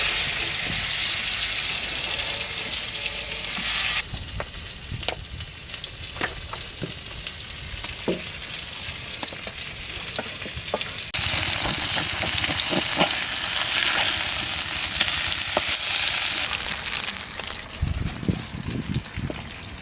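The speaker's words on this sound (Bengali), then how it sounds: "একইভাবে সব মাছগুলো ভেজে নিচ্ছি।" Pomfret fish frying in hot oil in a pan, a loud continuous sizzle and crackle with bursts of spattering, close and without any talk.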